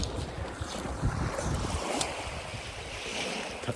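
Sea waves wash onto the beach at Jaywick on the English coast, a broad rushing surf noise thick with wind buffeting the microphone, steady and fairly close, no voices.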